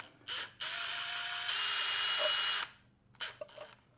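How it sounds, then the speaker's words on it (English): A Milwaukee power tool on its lightest setting removes parts from an RB26 engine's cylinder head during a teardown. A short whirring burst is followed by a steady two-second run, then several brief, choppy pulses, loud and close. "I've got my Milwaukee on the lightest setting, making sure I'm not damaging anything."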